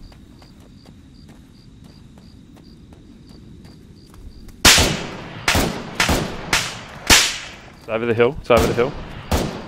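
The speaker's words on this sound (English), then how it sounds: "Whose shots are they?" Gunfire in the video game Arma 3 breaks out after quiet insect chirping: sharp, loud single shots at irregular intervals, then a short rattling burst, with a brief voice heard over the ambience.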